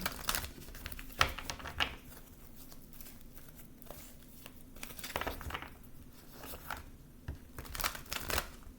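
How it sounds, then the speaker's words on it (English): Tarot cards are shuffled in soft, quiet bursts of riffling and patting, repeated several times with short pauses between, close and alone with no voice over them. "I'm going to shuffle the cards."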